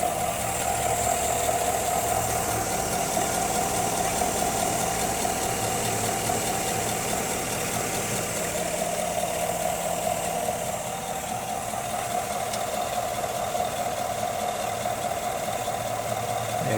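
A 2020 Chevy Silverado LT's 5.3-liter Ecotec V8 idles in a steady, even drone with a low, continuous rumble that holds unchanged and close throughout, with no voices over it.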